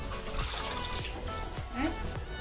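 Water runs and trickles steadily over dhal being rinsed at a sink, a continuous close splashing wash with no pauses.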